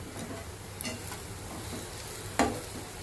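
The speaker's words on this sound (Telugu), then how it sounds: "కొత్తిమీర యాడ్ చేసుకొని ఒకసారి కలుపుకొని" Capsicum curry being stirred in a pan after coriander is added, a soft, low sizzle with faint scraping and a couple of light clinks from the spoon, close and without speech.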